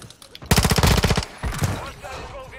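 Rapid automatic gunfire in a video game, a loud close burst of evenly spaced shots lasting under a second, then fading game noise while a voice speaks.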